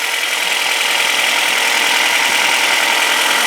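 A 2011 Ford Fusion's 2.5-liter inline-4 idles after a cold start, a loud, steady, close-up hiss and whir with a fine even ticking texture, unbroken and without voices.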